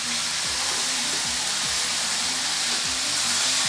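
Meat frying in a hot pan, a steady loud sizzle with bubbling and crackling throughout, close up and with no talking.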